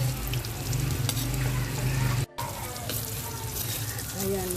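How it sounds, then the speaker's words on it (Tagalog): Saba banana slices frying in butter in a pan, a steady close sizzle with faint stirring and clinks throughout, briefly cut off once midway. "lutuin siya guys sa butter"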